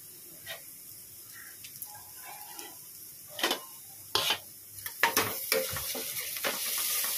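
Onion with crushed ginger and garlic stir-fried in a pan; a soft, low sizzle runs under intermittent scraping and clattering of a spatula against the pan, growing busier toward the end.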